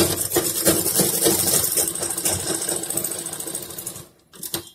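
An electric sewing machine stitches the piping on a simple suit, running in a fast, steady, close-up whir for about four seconds. It stops briefly and then starts again in a short burst.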